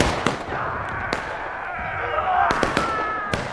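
Pistol gunfire from a War of Rights multiplayer match on the Crossroads map, with several sharp, close shots scattered over a few seconds under a continuous bed of battle noise and voices.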